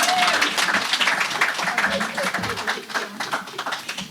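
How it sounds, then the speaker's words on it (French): A concert crowd at a live rap show in Paris applauds: a close, dense wash of clapping runs steadily throughout, mixed with crowd noise and voices. "Ah, mais applaudissez-moi."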